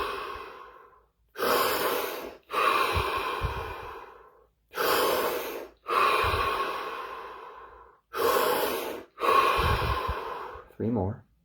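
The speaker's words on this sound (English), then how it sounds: "7 deep breaths, full minute of absolute stillness and silence." Slow, deep breaths during a guided meditation, several long inhales and exhales in a steady rhythm separated by short pauses, close and fairly loud, with no speech.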